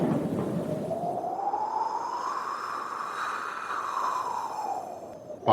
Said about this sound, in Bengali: দেখতে দেখতে ভীষণ ঝড় শুরু হলো।